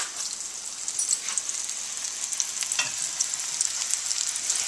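Two delicate potato croquettes fry in hot oil, giving a steady, bright sizzle with small pops and crackles throughout. The sound is close and continuous, with no talk.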